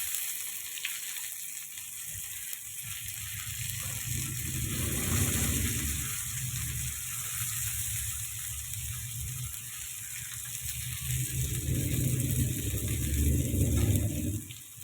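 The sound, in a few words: fish with masala frying on a tawa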